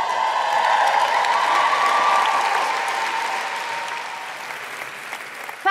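Cast of Emilia, the play, gets loud cheering and applause from a large audience at the Royal Albert Hall, a steady roar of clapping and whoops that slowly eases off over several seconds.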